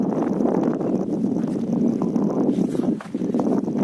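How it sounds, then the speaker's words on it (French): Strong morning wind on a trail roars and buffets against the microphone in a loud, continuous low rumble that rises and dips in gusts. "Beaucoup de vent ce matin."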